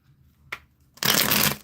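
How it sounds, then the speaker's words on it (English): A deck of tarot cards is shuffled by hand: a single faint tap, then one loud, close riffle burst lasting about half a second, with no talking. "let's do 3 shuffles, 3 cuts"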